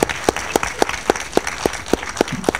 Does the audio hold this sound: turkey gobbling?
no